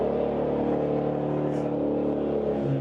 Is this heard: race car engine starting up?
yes